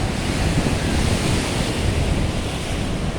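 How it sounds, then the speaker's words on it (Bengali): Large Arabian Sea waves crash and roar continuously onto Kovalam beach in Kerala, heard close up under heavy wind buffeting the microphone. "কি বিশাল সুবিশাল ঢেউ আছড়ে পড়ছে।"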